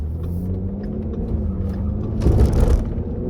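A Ford Mustang accelerates through a turn, its engine rumbling steadily close by before a brief louder, rougher surge near the end.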